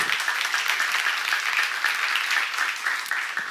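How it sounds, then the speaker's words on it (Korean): Sustained applause from a church congregation during a seminar, dense and steady for the whole stretch, fairly loud and even, with no talk over it. "믿는 사람만 박수하세요."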